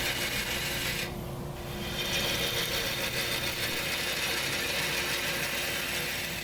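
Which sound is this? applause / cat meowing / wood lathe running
wood lathe running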